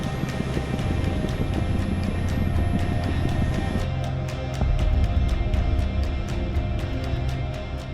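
Steady low engine drone with broadband rumble and a faint rhythmic chop from a rescue helicopter flying nearby in Scotland, continuous throughout with no talking.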